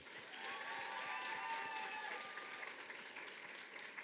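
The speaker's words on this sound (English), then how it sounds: "Students and families, please give them a round of applause." Sustained applause from an audience of students and families at a teacher education pinning ceremony for graduates, a dense steady wash of clapping filling the room for the whole stretch.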